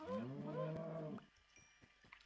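A cow in the Minecraft video game moos once in a low, drawn-out, clearly voiced call, followed by faint clicking game sounds.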